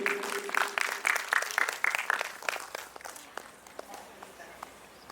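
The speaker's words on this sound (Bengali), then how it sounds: "সবাইকে একটু হাততালি দিতে অনুরোধ করি।" An audience applauds at a cultural event honoring a dancer, with a burst of loud, close clapping that thins out and fades into scattered claps.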